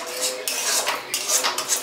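A spoon works through a cooked vegetable chop filling mixed with chopped coriander in a metal pan, giving repeated close scraping and clinking strokes in an uneven rhythm, no voices.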